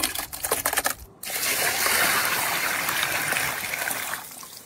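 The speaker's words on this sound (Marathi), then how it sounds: "आपण आता कपुरे व्यवस्थित धुवून घेऊ स्वच्छ पाण्याने।" Kapure rinsed under clean running water, a steady gushing splash that fills most of the clip after a few clattering knocks at the start, close and continuous.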